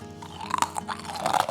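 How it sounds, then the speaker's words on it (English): Crunchy vegan cereal, resembling cinnamon toast squares, is chewed close up, giving a dense series of crisp crunches and brittle snaps over about a second and a half, with no talking. "you need to hear the crunch on this cereal"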